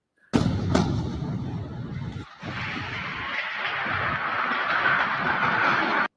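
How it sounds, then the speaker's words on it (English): Heavy, sustained roar of an Israeli airstrike in Gaza, a loud blast opening into a long rumbling, crackling wash that dips briefly and swells again, distant but powerful with no voices. "this is an airstrike by Israel in Gaza"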